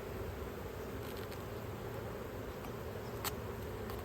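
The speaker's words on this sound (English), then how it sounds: "I'm gonna drop these bees off in here." Honeybees hum around their colony's hive boxes, a steady close swarm drone with a few louder passes of individual bees near the ear.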